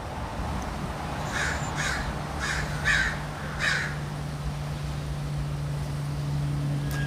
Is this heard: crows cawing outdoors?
yes